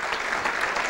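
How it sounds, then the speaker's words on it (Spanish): Brief burst of applause from a church congregation, dense and steady clapping filling a short moment with no speech over it. "vamos a darle un aplauso al Señor para recibir la palabra."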